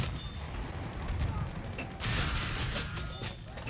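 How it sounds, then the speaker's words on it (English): Rocket barrage from an enemy bomber in a tank combat video game: dense rumbling blasts and crackling explosions throughout, with a sharper, louder burst midway, under a voice talking. "Big rocket attack from their bomber."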